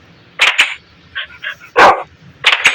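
A dog fires off a handful of sharp, close barks in quick clusters, with softer yips in between and brief quiet gaps.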